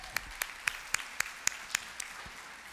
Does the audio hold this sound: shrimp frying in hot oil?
no